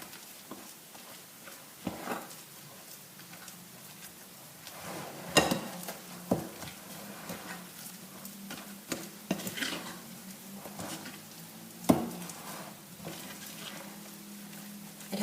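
A spoon stirs banana nut muffin batter in a bowl with soft scraping and intermittent sharp clinks against the side, irregular strokes close by, with no voices.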